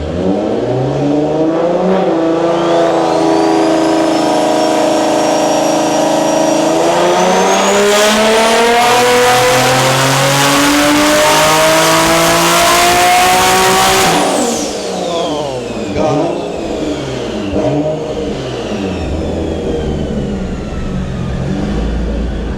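A boosted Infiniti G35 pulls hard at full throttle, its engine note rising steadily and loudly to near 8,000 RPM before the driver lifts off, leaving a falling drone and exhaust burble.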